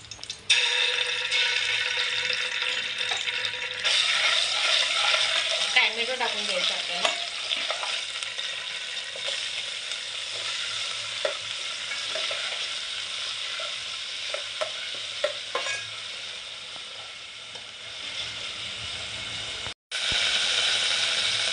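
Ginger garlic paste and curry leaves sizzle in hot oil in a pan while being stirred, a continuous close crackle with scraping strokes, easing off near the end before a brief gap.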